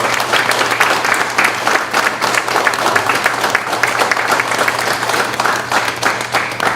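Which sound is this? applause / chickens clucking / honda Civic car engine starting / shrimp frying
applause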